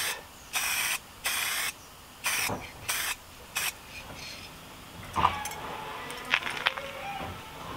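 Aerosol spray paint can sprayed in a series of short bursts, several loud close hissing blasts separated by pauses, followed by quieter rattles and handling noises.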